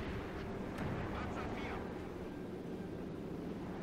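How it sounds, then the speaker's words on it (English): A bombing run in the video game Company of Heroes 2, a dense, continuous roar of explosions and artillery rumble that holds steady and loud throughout. "Oh, that's a fucking bombing run."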